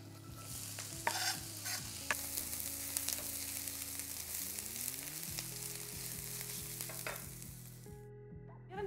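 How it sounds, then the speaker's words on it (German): Onions frying in hot fat, a steady crackling sizzle that runs unbroken with occasional stirring clatter, close and moderately loud, then cutting off at the very end; a low background hum sits underneath and no one speaks. "Zwiebeln ins heiße Fett geben."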